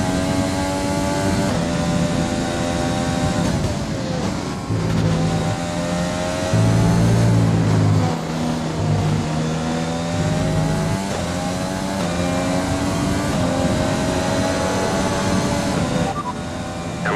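A Formula 1 car engine screams in the game F1 2020 at the Austria circuit, a loud, close, sustained high-pitched whine that rises and falls through repeated gear shifts and accelerations.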